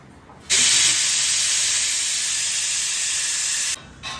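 A pressure cooker on a gas stove lets off a single loud whistling hiss of steam cooking chicken for biryani, a sustained blast of about three seconds that cuts off abruptly.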